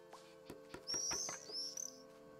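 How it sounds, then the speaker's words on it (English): A bird in Alba: A Wildlife Adventure, calling with a few bright chirps and short trilling whistles over faint ambient music, fairly soft and alone. "Ooh, is this a bird I don't have?"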